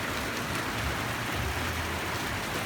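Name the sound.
rain falling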